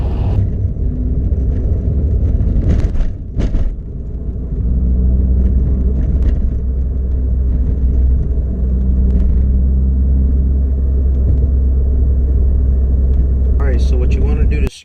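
A manual car's engine rumbles and revs steadily through gear shifts, with a brief dip in power around each change, close and loud, while a voice talks over it.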